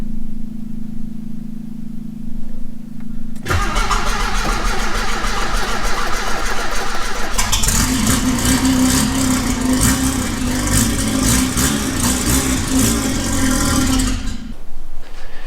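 Mazda 929 Legato with a 13B rotary engine cranking and catching after sitting about a month, then idling loudly and roughly close by, with a surge of revs before settling; no voices.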